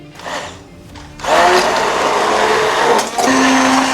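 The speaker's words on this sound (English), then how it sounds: "We're gonna go ahead and get our immersion blender in there and get it all blended up." An immersion blender whirs through simmered peach BBQ sauce in a pot, starting with brief bursts and then running loud and steady up close, its motor pitch dipping briefly as it works the thick sauce.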